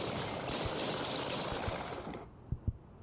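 In the video game Stalking Simulator, a rapid burst of gunfire rattles for about two seconds, then cuts off, followed by two sharp isolated shots; quiet, game-like effects.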